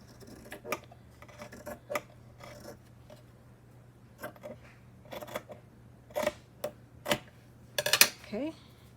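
Scissors snip through paper for a junk journal in a quiet room, giving a scattered series of sharp cuts. The snips come in small clusters, with a quick burst of several near the end and a faint steady hum beneath.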